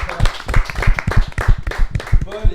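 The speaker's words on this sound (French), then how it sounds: "on peut applaudir" An audience claps in a loose, uneven rhythm of separate hand claps, fairly loud and close, lasting a couple of seconds without building into full applause.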